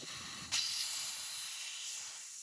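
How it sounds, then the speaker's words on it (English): Air hisses out of a car tire as it is deflated through the valve with a valve core remover, a steady, fairly soft hiss that starts abruptly and continues without talk. "You will need to use a valve cover remover tool to deflate the tire."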